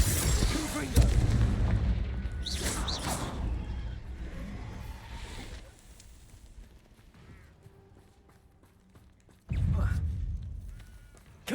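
Confringo spell blasts in Hogwarts Legacy: heavy booming impacts with crackling bursts and whooshing effects, loud at first and again near the end, with a quieter stretch of scattered magical sounds between.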